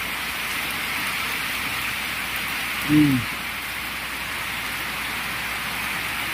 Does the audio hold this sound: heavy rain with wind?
yes